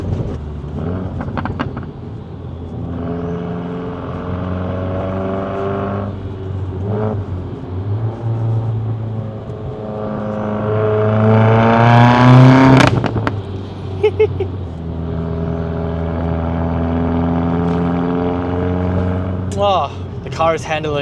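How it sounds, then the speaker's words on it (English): An Alfa Romeo car drives on the road, its engine note climbing and falling through gears and swelling to a loud rev near the middle, while someone talks over the steady cabin drone. "The car is handling so well, and it's so smooth."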